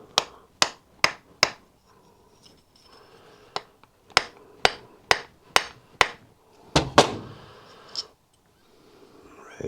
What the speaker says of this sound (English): We'll give it a gentle tap.